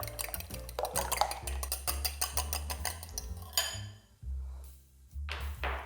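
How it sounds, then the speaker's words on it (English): Three whole eggs and three yolks are whisked in a bowl, a quick run of sharp clinking taps of the whisk against the bowl, close and loud, pausing briefly before a few more strokes. "3 eggs, medium eggs, with the whites as well. And I'm going to add in 3 egg yolks. Just give them a mix up."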